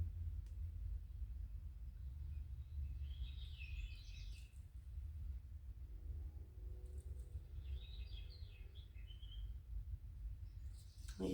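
Recorded birdsong played from a sound machine, faint twittering chirp phrases arriving in two short bursts over a low, constant background rumble.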